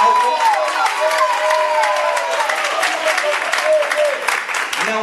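An audience at a lecture in Campo Grande applauds loudly and steadily, dense clapping with some cheering mixed in, sustained for several seconds without a break.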